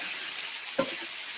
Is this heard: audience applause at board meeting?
no